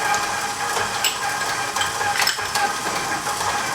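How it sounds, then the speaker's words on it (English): Whisk stirring cake flour, kosher salt, baking powder and baking soda in a bowl, a close continuous scratchy rustle with light taps against the bowl. "Give those a little whisk."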